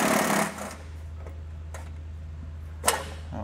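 A 10 mm socket wrench ratchets nuts off a heat shield under a 2018 Kia Optima, giving scattered light clicks and taps over a steady low hum, with a sharper metallic knock near the end.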